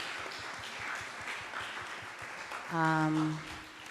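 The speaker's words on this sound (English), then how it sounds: "round of applause, if you don't mind, for Rushern Baker, Ben Jealous, Alec Ross, Jim Shea, and Krishanti Vignarajah" Faint, diffuse applause from a debate audience for the gubernatorial candidates, a soft crowd patter in a large hall, briefly overlaid by a short tonal electronic sound.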